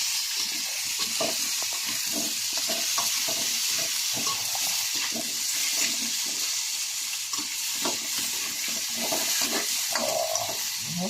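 Pork kaldereta cooking in a pan, with steady sizzling and frying under repeated scraping stirs of a utensil, close and continuous throughout.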